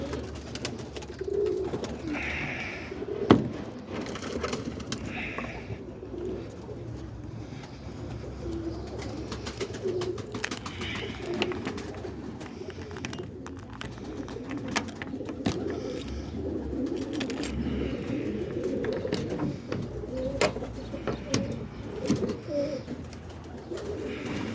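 Roller pigeons in a loft coo softly and repeatedly in low rolling calls, several birds close by with light shuffling and flutters, no talking.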